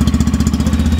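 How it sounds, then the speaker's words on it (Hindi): A Yamaha FZ-Fi V3, a 150cc motorcycle, idles close by, its single-cylinder exhaust giving a steady, rapid low thumping pulse for about a second with no talking. "आइडल पे इसका साउंड ऐसा है,"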